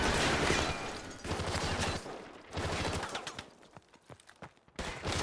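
Machine gun fire in the video game Call of Duty Modern Warfare comes in sharp rapid bursts separated by short pauses, loud and close, with scattered single cracks between volleys.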